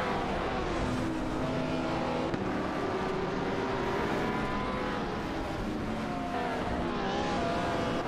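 Racing video game cars, an Aston Martin Vantage and a McLaren F1 GT, battling for position: continuous high-pitched engine whine rising and falling with revs and gear changes, loud and close.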